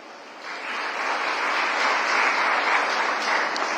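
Audience applause at a drone unit inauguration event in Uttar Pradesh, a dense, steady wash of clapping from a large crowd, rising after a quieter start and holding level throughout.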